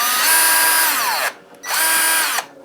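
A Ryobi PDD209 cordless drill's electric motor whines loudly up close in two bursts, separated by a short pause, each rising in pitch as it spins up and dropping as it winds down.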